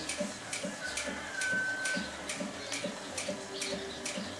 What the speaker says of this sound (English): My artisan sewing machine here has a speed reducer on it.